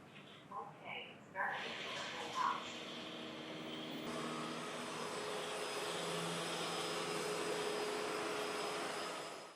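A few soft beeps and clicks, then an ECOVACS DEEBOT T20 OMNI robot vacuum's motor whir starts up and keeps running evenly, fairly quiet and close.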